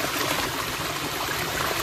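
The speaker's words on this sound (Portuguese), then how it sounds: "duas cascatas aqui, ó. Que maravilha, hein? Ó, Nossa, água cristalina." Clear water runs steadily over small cascades on a rural property, a dense, continuous rushing and splashing close by with no pauses or speech.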